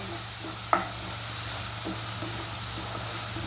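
A spice paste of chilli, bay leaf, ginger, garlic and onion is stirred and fried in a pan for a Bengali fish curry, giving a steady close sizzle with a sharp spoon scrape and a few soft taps.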